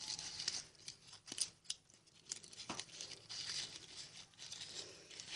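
Scissors snipping gift-wrap paper close up, a series of quiet crisp cuts with light paper rustling between them, no talk.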